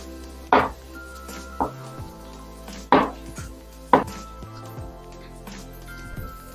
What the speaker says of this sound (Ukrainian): Розрізаю навпіл і такими не тоненькими шматочками нарізаю.